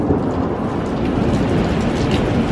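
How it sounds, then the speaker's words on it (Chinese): Thunder rolls through a rainstorm, a dense steady roar of heavy rain with a low rumble underneath, loud and continuous, with no voices. "这还打雷呢"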